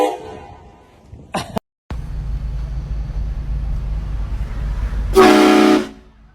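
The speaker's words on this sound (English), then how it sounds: "She didn't like my train horn." A loud novelty train horn blasts near the end after a brief bang and short silence, preceded by faint voices and a steady low rumble.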